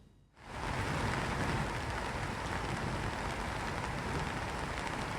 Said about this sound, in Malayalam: തൃശ്ശൂരിൽ കനത്ത മഴ തുടരുകയാണ്